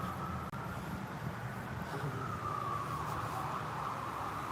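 A car siren wails with a faint, gliding tone over a constant wash of traffic and road noise, sounding fairly steady and somewhat muffled.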